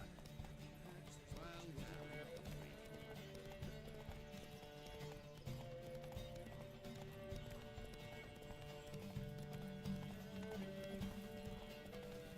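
Horses gallop in a saddled race on Zeracanian Bay in The Witcher 3, a steady rush of clip-clopping hooves with an occasional whinny, all set against game music that holds at the same level throughout.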